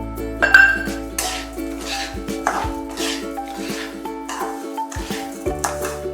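A spoon stirs sugar into roasted semolina in a pan, giving repeated metallic scrapes and clinks against the pan over a steady background hum, close and moderately loud.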